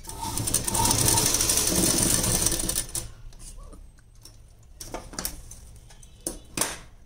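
A sewing machine stitches a blouse in a steady, fast whirring run for about three seconds, then stops, leaving faint clicks and handling noises.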